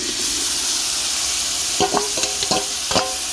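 Mint and tomatoes fry in a biryani pot on a clay stove with a steady hiss. A few short metallic scrapes and clinks from stirring come near the end, close and clear, with no talk.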